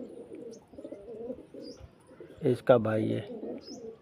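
A black pigeon, just caught, gives a short burst of cooing close by, with someone talking over and around it.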